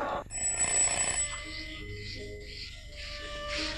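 A telephone bell rings in a film scene, a bright electronic tone sounding briefly and then giving way to quieter room sounds with faint chirps, no voices heard.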